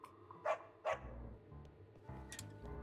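Short dog barks from the Psychonauts 2 video game, two sharp yips close together near the start, then a softer later bark over a low game background hum.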